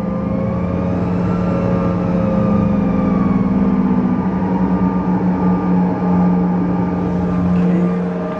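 An aircraft engine revving up, a steady loud droning hum with strong low tonal bands that holds throughout, heard from inside behind a window, with no speech.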